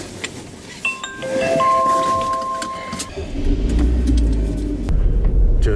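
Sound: car driving on icy road

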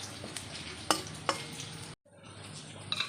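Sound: tempering dal with onion and dried red chilli

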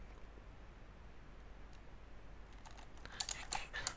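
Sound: typing a command on a computer keyboard

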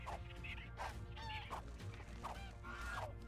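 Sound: dodo bird calls in the video game ARK: Mobile

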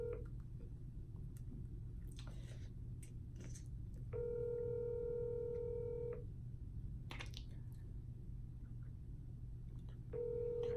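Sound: FaceTime call ringing on phone

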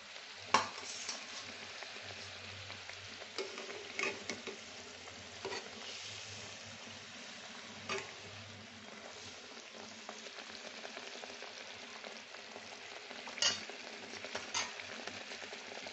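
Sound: hilsa fish pieces with salt and turmeric frying in pan

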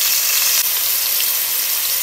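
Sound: onions sautéing and sizzling in hot oil

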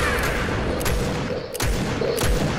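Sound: gunfire shot in a video game

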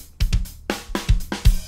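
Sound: drum hit with a drumstick

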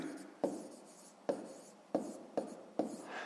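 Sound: writing numbers by hand

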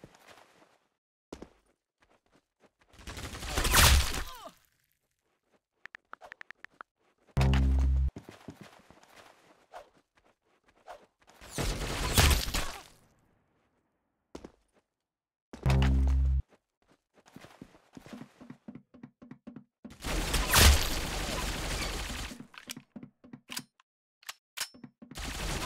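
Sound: gunfire in a mobile shooter video game

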